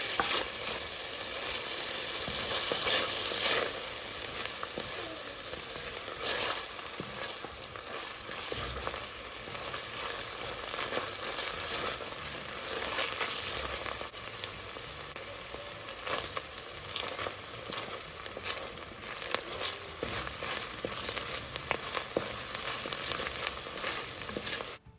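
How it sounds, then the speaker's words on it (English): Onion, garlic and grated ginger sauté in a hot pan for vegetable rice, a steady close sizzle with bright crackling and occasional stirring scrapes throughout, no talking. "you want to take the time to really saute these together"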